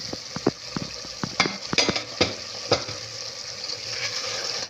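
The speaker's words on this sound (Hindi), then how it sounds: "अभी हम इसको थोड़ी देर और भूनेंगे जब तक हमारा ऑयल ऊपर ना आ जाए।" Masala sizzles in hissing oil in a pressure cooker pot while a spoon scrapes and clinks in irregular stirring strokes, close up and without talk.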